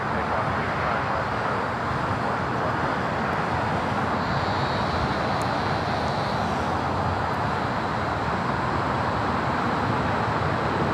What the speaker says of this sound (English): Oh, the Lufthansa King taking off at 6.